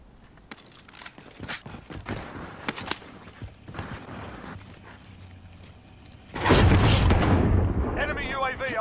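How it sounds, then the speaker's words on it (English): A rocket launch in the Warzone video game on Rebirth Island, a loud burst of broadband blast noise arriving partway through and sustained to the end. Scattered game sounds and footsteps come before it. "Fire rocket!"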